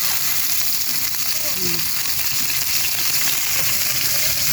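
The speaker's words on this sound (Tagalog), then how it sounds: "magigisa muna ako ng kamatis" Tomatoes sautéing in a hot pan at a home cooking session, a loud continuous sizzle and crackle, close up and steady throughout.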